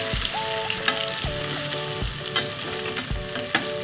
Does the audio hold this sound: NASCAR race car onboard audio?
no